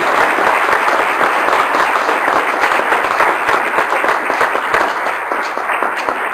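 Audience at a public patient meeting on alpha-1 antitrypsin deficiency applauding the panelists, a dense, steady wash of many hands clapping that holds strongly throughout.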